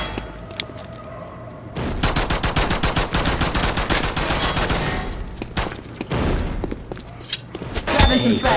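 Sustained automatic rifle fire in the shooter game City 17: Aftermath, a loud close rattle of rapid shots running for several seconds before trailing off.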